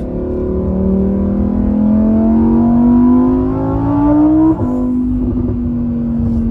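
A Lamborghini Huracan Evo Spyder engine revs up in a loud, rising howl, then drops sharply with a quick downshift blip and settles into a lower drone, heard close from inside the car with no talk.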